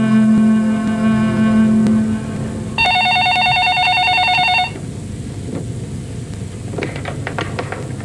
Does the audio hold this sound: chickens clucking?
no